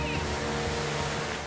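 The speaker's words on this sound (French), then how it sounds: "Les vagues étaient très hautes." High ocean waves roar in a storm, a dense, steady wash of surf that runs unbroken and loud from start to end.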